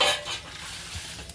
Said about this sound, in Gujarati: તેલ અને લસણવાળી ચટણી હવે વઘારશું